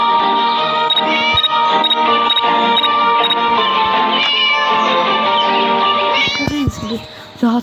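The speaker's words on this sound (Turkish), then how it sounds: "Baxın buradadır pişik." A cat meows loudly and repeatedly in drawn-out, wavering cries close by, with voices talking at times.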